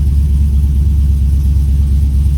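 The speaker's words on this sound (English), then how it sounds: "Magnum flow exhaust, 3-inch. This is 3-inch pipe from the front to the back." A Chevy truck engine runs through a 3-inch Magnum Flow exhaust, piped front to back and dumped before the axle, giving a loud, steady, deep rumble close by with no talking.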